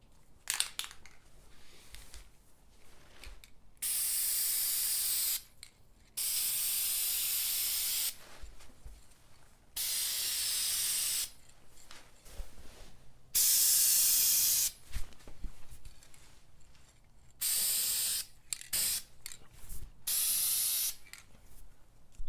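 Repeated bursts of aerosol spray paint hissing onto a repaired plastic car part, several sustained sprays of a few seconds each separated by short pauses, close and fairly loud, with no talking.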